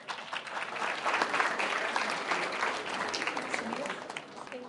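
A crowd applauding at a gallery ceremony, thick continuous clapping from many hands that holds at a steady, fairly loud level throughout.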